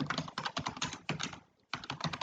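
Computer keyboard typing out a prompt asking for code, with quick bursts of close, crisp key clicks separated by a brief pause, and no talking.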